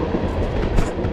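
A train rolls past close by, a loud dense rumble with rail clatter and brief clickety-clack from the wagons, heard alone without voices.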